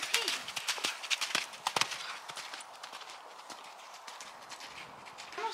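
Horse hooves clip-clopping in a riding session, a quick irregular run of sharp close strikes that eases into softer, fainter steps, with a brief voice near the end.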